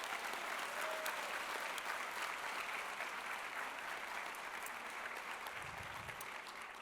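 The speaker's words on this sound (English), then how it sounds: "Can we give Alvin another round of applause" Continuous applause from a conference audience during an opening and keynote session, dense and even but fairly distant and quiet, slowly tapering toward the end.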